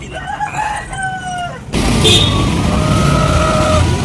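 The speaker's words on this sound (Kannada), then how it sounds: "ಎಷ್ಟೊಂದು ನಾಟಿ ಕೋಳಿಗಳು ತಂದು ಇಟ್ಕೊಂಡವ್ರೆ" A native country rooster crows among a flock of village chickens, its call ringing out loud and near, then giving way to a denser wash of farmyard noise and a passing engine.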